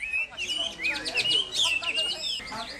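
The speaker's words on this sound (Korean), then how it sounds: "새들의 노랫소리가 아름답습니다" Birds chirp and trill continuously in bright, overlapping calls on Mount Emei, China, fairly close and lively, with a faint murmur of background noise.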